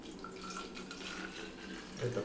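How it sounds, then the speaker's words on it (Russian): Filtered water pours steadily into a container to dilute a sports drink, a soft, continuous trickle close by for about two seconds. "И все это разводим водой."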